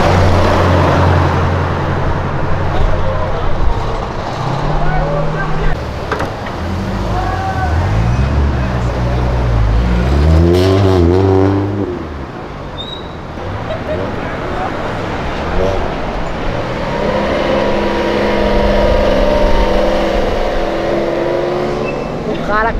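An Alfa Romeo 4C engine rumbles and revs nearby as the car backs up and parks, rising and falling in pitch, with people talking and exclaiming over it throughout.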